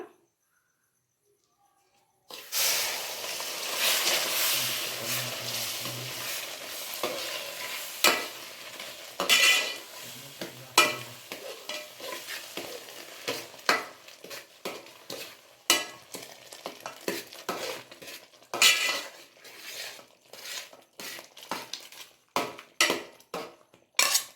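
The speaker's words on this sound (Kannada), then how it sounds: "ಪೈನಾಪಲ್ ಸಿರಪ್ನ ಹಾಕ್ಕೊಂಡು ಮಿಕ್ಸ್ ಮಾಡ್ಕೊಂಬಿಡೋಣ" Pineapple syrup being stirred into kesari bath in a pan on the stove, with a steady scraping, sizzling mix of ladle strokes against the pan and occasional metallic clinks, close and fairly loud throughout.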